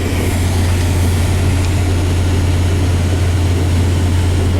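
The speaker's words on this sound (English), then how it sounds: "Yeah, sitting here revving her up." Engine of a 1990 Chevy 1500 pickup runs steadily at a loud, deep, constant drone, close by, with no clear rise or fall in pitch over the few seconds.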